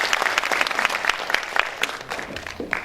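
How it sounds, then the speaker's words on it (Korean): Enthusiastic applause from the crowd at a political event, many hands clapping in a dense, lively burst that stays strong before easing slightly toward the end. "뜨거운 박수 부탁드립니다"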